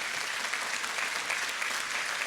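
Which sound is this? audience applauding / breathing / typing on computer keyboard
audience applauding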